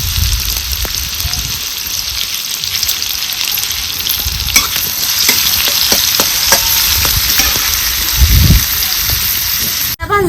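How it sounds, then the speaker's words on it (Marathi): Onion fries in hot oil with cumin in a pan, a loud steady sizzle running throughout with occasional scraping stirs, close and continuous. "कांदा आपल्याला चांगला लालसर होतोपर्यंत भाजून घ्यायचा आहे"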